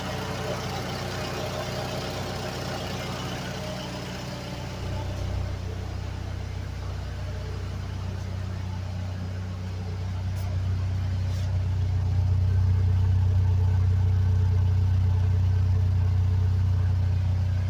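A $240 junkyard Geo Metro's small engine runs and idles steadily, with a low hum that grows louder and rougher toward the end, heard close by with no talk.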